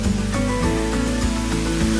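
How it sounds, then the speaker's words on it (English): Loud, steady rushing water fills the whole stretch, a dense broadband roar like a nearby waterfall in the Southern Highlands bush, with no voices over it. "There's another waterfall up there."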